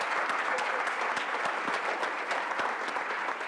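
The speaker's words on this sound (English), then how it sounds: "let's give Shalinda another round of applause" Steady, sustained applause from a crowd at a business meeting, honoring a performer named Shalinda; dense clapping continues evenly throughout with no voices standing out.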